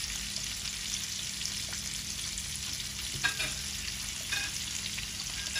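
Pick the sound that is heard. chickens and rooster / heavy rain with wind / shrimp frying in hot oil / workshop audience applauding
shrimp frying in hot oil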